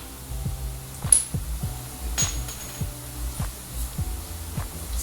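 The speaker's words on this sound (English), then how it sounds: "So we are using this nylon mallet so that it doesn't damage the threading of this rear axle." A nylon mallet strikes the rear axle of a Suzuki Hayabusa motorcycle during repair, giving a steady series of dull, muted knocks roughly every half second at close range with no talk.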